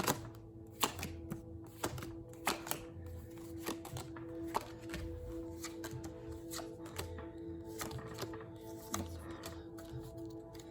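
Cards are shuffled repeatedly, with rhythmic riffling bursts and soft taps recurring every second or so, close and moderately quiet.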